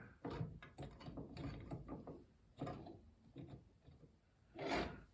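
A steel bench vise being cranked closed on a bicycle chain, giving several close, uneven metallic ratcheting and scraping bursts with a louder grinding clunk near the end.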